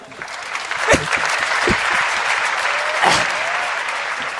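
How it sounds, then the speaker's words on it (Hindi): An audience claps throughout at a Hindi comic poetry recitation, a dense even applause with a few louder, sharper claps standing out near the start and middle. "तालियां बजा दो।"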